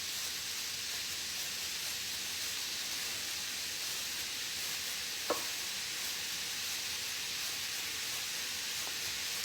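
Tater tots cooking in an air fryer, a steady even hiss and fan whir throughout with a single faint click partway through, no talk.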